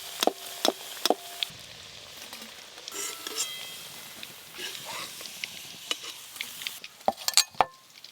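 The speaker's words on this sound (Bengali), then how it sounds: "এবারে যা আছে সব একসঙ্গে ভেজে নেব।" Fried paneer pieces and other ingredients are stirred together in a hot pan, with soft sizzling broken by sharp spatula scrapes and clinks in an irregular rhythm, close and fairly quiet, with little talk.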